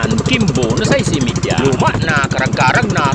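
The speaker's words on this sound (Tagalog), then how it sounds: "papandaron ta naman ang luma ta na makina" An old engine starts and runs with a steady, rapid mechanical chugging throughout, loud and close, while someone talks over it the whole time.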